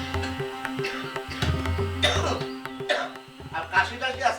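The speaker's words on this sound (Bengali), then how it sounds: "আর কাশি টাশি আছে নাকি?" Coughing and throat clearing from a character in a Bangla comedy drama, several rough coughs mixed in among conversational speech at close range.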